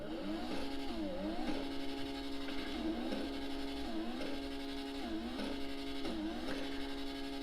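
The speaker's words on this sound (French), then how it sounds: "Je remonte dans ma voiture et après je vous fais écouter juste le petit bruit" Car engine in the video game GTA V revving in repeated rising and falling sweeps, roughly every second and a half, over a steady droning hum, loud and continuous with no talking.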